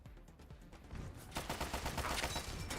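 Rapid gunfire rattles in a heavily modded Fallout 3 and New Vegas mash-up, a string of quick crackling shots that grows denser and somewhat louder, like a burst of incoming fire.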